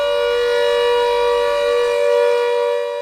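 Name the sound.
civil defence air raid siren in a mock drill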